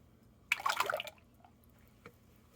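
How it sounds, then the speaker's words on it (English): A short burst of liquid cold-process soap mixture pouring and splashing lasts about half a second, followed by a faint drip in an otherwise quiet space. "I'm gonna pour a lot of it back into here."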